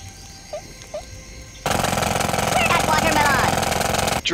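Pneumatic drill weapon from Worms Reloaded, a loud rapid hammering burst that starts abruptly after a couple of quiet beeps and runs steadily for about two and a half seconds before cutting off.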